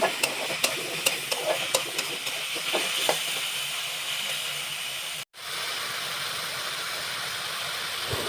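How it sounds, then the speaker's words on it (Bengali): Chopped chicken fries over medium heat in a pan, a steady soft sizzle and hiss with scraping stirring strokes early on, fairly quiet, with a brief dropout near the end and no talking. "ভালো করে একটু নেড়ে চেড়ে জলটা ঝরিয়ে নিব। যতক্ষণ পর্যন্ত জলটা শুষে যায় ততক্ষণ পর্যন্ত মিডিয়াম আঁচে ভাজবো।"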